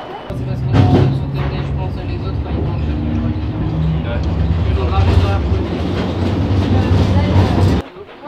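Steady rumbling of a train rolling along rails in Lyon, France, with a continuous low drone and faint clatter, voices speaking briefly over it before it cuts off.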